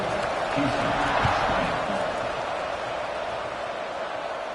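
Stadium crowd at a college football game between Florida and Houston, a broad steady roar of many voices holding level throughout, with faint scattered shouts and no clear talk over it.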